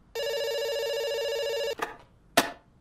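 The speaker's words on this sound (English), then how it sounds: "It's ringing." A telephone rings in a video game: one long, steady electronic ring, loud and close, that stops abruptly and is followed by two short clicks or bumps.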